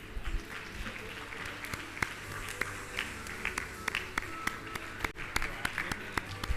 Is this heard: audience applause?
yes